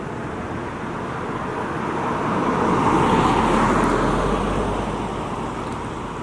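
Steady road traffic rushes past on a busy roadway, a broad wash of tire and engine noise swelling as vehicles pass close by, then easing slightly while remaining constant.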